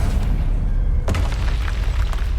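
A Confringo fire spell from the Hogwarts Legacy video game lands as a deep booming explosion, a sharp blast rising out of a steady rumbling roar and fading in a rolling tail, with no speech.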